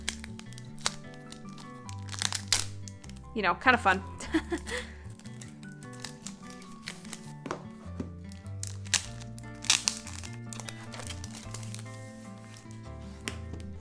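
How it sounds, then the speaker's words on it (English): Plastic wrapping crinkles and crackles in bursts as it is pulled off Hobonichi planners, close by, with a person talking briefly over the handling sounds. "even just taking this plastic off, let's listen to that."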